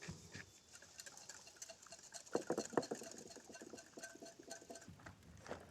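Pepper mill being twisted over a turkey leg marinade, giving a close, quiet run of small crackling grinds that peak briefly in the middle, with no voices.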